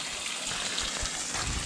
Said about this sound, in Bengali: বরফ গোলা পানি যাচ্ছে ড্রেনেজে